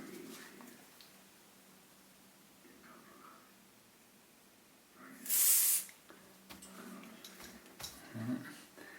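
A short, loud hiss of aerosol carburettor cleaner spray bursts for about a second amid quiet background noise and faint handling sounds, sprayed into a partly blocked Yamaha XVS 1100 motorcycle carburettor.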